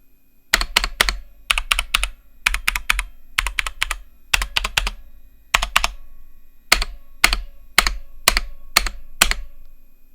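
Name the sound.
typing on a budget MageGee computer keyboard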